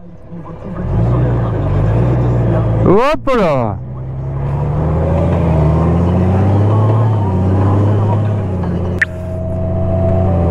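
A 2023 Honda GL 1800 Gold Wing motorcycle being ridden, its engine giving a steady low hum that rises and shifts in pitch, heard under a rider's talk with wind noise and a brief sharp click.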